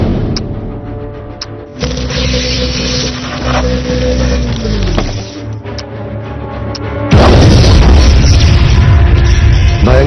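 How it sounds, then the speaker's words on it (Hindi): A laboratory blows up in a superhero movie, with a loud booming blast and crashing debris rolling on for several seconds before a second, even louder burst takes over near the end. "भयंकर विस्फोट हुआ, मगर अजगर उसमें मरे नहीं"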